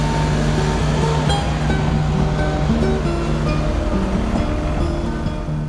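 Water pours over a weir on the River Dee in a continuous, loud rushing roar, steady and unbroken throughout.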